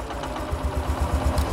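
A new 2022 Honda Shine 125 BS6 motorcycle with a silent self-starter cranks on an empty petrol tank and fails to fire, giving a low, rhythmic churning pulse, close and steady with no engine catch.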